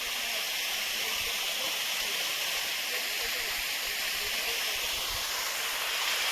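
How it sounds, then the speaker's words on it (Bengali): Steady, loud rushing of a waterfall near Kalimpong, heard up close on a slippery rocky climb along a hill trail. The broad, unbroken roar fills the whole clip without pause. "ঝর্ণার আওয়াজ"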